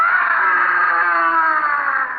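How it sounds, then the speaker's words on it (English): A sustained, loud wail of pain and terror from a woman, rising and holding steady for about two seconds before tapering off, heard alone on a late-night beach among sand dunes. "It's almost midnight, when suddenly there's a scream of pain and terror."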